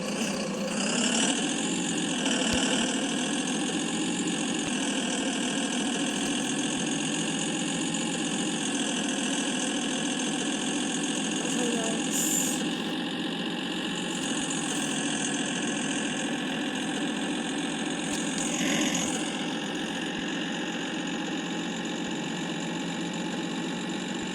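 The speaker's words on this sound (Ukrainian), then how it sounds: "Бачите, ми так швидко їдемо" A car engine droning steadily at speed, with a constant mid-range hum and harmonic whine running throughout, loud and close, with brief swells near the start and end.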